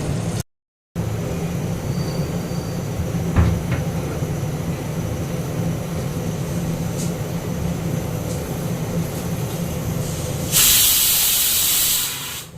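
A pressure cooker with rice hisses steadily as it vents steam, a loud continuous rush that swells into a brighter, sharper burst near the end.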